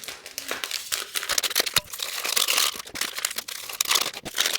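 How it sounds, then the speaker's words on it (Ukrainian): Instant coffee sachets are torn open and emptied into a bowl, producing close, loud crinkling and ripping of packet material in rapid irregular bursts throughout, with no talking. "до миски додаю 4 пакетики макави."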